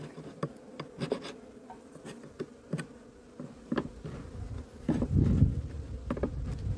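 Bees buzz at an open hive during a late-summer inspection, a close, continuous droning hum with individual insects zipping past and light tapping and scraping of frames, swelling louder near the end.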